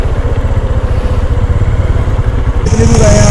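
KTM, Dominar and Himalayan motorcycles idle and rumble together at night in a forest, with a steady, close, pulsing engine drone and a brief higher whine near the end.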